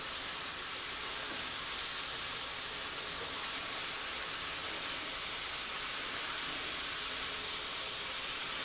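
Steady broadband sizzling hiss of cabbage frying in hot bacon fat, constant and close, with no pauses or talk.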